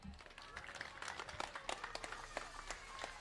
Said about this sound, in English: So a big round of applause for Marie